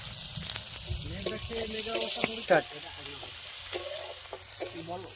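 Pond snails fry with chilli and onion in a pan, sizzling steadily up close while a utensil scrapes and stirs in repeated strokes and sharp clinks.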